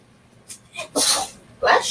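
A dog sneezing after pepper got into its nose in a kitchen, two quick hissing snorts after a couple of softer sniffs, close and fairly loud.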